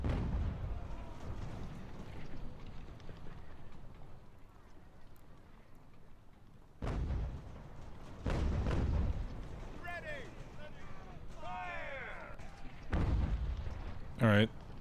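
Artillery guns fire in a strategy war game, with several loud, deep booms spread at irregular intervals over a quieter rumbling battlefield background, with no voices.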